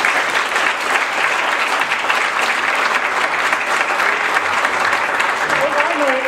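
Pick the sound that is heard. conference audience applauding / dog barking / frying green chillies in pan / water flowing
conference audience applauding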